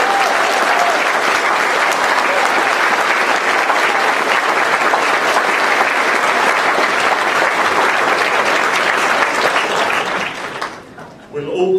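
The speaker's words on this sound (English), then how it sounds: "Ladies and gentlemen, please honour them with your applause" Sustained applause from the audience at a CQUniversity Bundaberg graduation ceremony, dense steady clapping from a large crowd for about ten seconds before it fades out.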